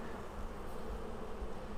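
Honey bees at an open Flow Hive make a continuous, even buzz of many wings, soft and steady throughout with no voices over it.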